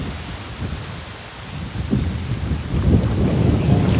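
Heavy rain falls steadily, close and loud, with low rumbling thunder rising in the second half and wind buffeting the microphone, with no voices.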